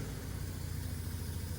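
A 1985 Mazda RX-7 rotary engine idling, a steady low hum that stays even throughout, fairly faint and with no voices.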